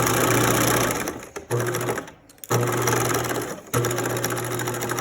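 Sewing machine stitching a blouse edge, running in three steady bursts separated by brief pauses as the fabric is pivoted, including a short back stitch; loud and close with no talking.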